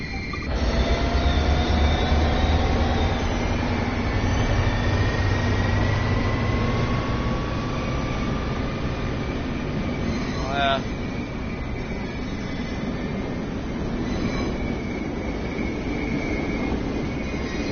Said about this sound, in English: what's your opinion on American locomotives?